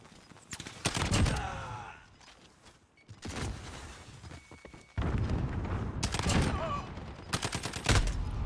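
SCAR rifle fire in an online shooter, coming as several loud bursts of rapid shots with gaps between them, amid game noise and brief talk.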